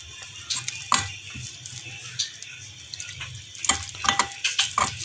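Flour and water being stirred into a paste with a spoon, giving quiet, uneven scraping and clinking against a bowl in short irregular bursts over faint background hum.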